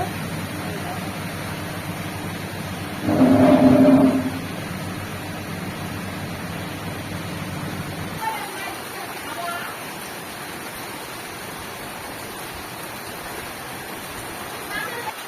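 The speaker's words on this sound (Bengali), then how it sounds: "কেমন বৃষ্টি শুরু হয়ে গেল।" Rain hisses steadily in the background under a continuous broadband wash, with a brief louder burst early on; no one speaks.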